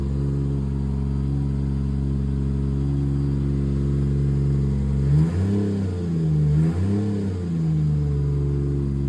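A Toyota car engine with a misfire holds a steady loud idle, then revs up twice in quick succession before settling back, the deep harmonic drone rising and falling close by with no talk.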